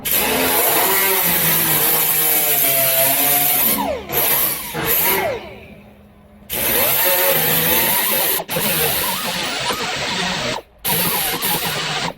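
Angle grinder cutting through sheet metal on a custom truck bed, a loud continuous abrasive whine that drops out briefly a few times before resuming, close and alone.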